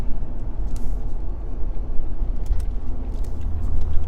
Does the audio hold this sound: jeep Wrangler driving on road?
yes